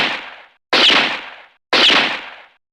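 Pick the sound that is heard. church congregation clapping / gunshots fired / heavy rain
gunshots fired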